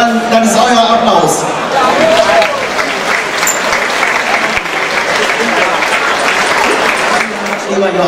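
An audience at a carnival prince-couple presentation applauds in a loud, dense, continuous burst of clapping that fills the room, with voices and cheering mixed in throughout.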